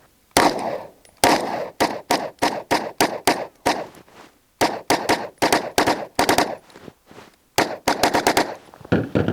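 A pistol fires Hornady Custom 124 grain XTP hollow-point rounds in rapid strings, loud close sharp cracks in quick bursts separated by short pauses, with no talking.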